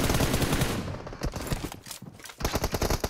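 Gunfire in the mobile game PUBG Mobile, rapid automatic bursts with a brief lull in the middle before another dense volley, loud and close.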